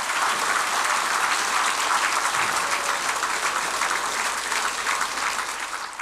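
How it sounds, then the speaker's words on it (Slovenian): Studio audience of a Slovenian TV variety show gives a warm round of applause, full and even clapping from a sizable crowd that carries on for several seconds and fades slightly at the close, with no speech heard. "En lep aplavz, prosim, za gledalce pred TV sprejemniki."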